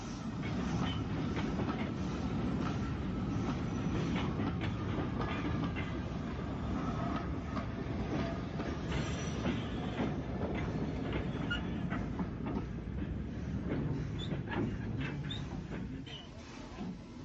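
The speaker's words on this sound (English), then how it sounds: "We return to RYDE Esplanade in time to see a train departing for Pierhead." A 1950s–60s Isle of Wight railway train with old wooden-bodied stock departing Ryde Esplanade, a steady rumble with rhythmic wheel clatter heard at a moderate distance, continuous and fairly even.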